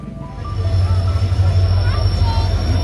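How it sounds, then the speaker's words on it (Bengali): A passenger train arriving at a station on a Darjeeling journey, heard as a steady low rumble with a faint high whine running throughout, loud and close, with some background voices. "আমাদের ট্রেন ঢুকে গেল।"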